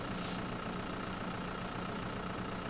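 A big tractor engine idles in Farming Simulator 2013, a steady low droning rumble with even hum, continuous and close throughout.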